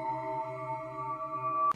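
Sonar ping in the Siren Head horror video game, a sustained layered electronic tone holding steady at moderate volume, ending in a brief sharp click.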